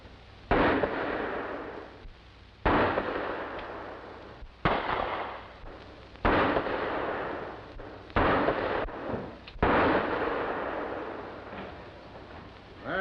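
Six pistol shots ring out at target practice, each a sharp loud crack followed by a long echoing decay, spaced roughly every one to two seconds in an old film soundtrack.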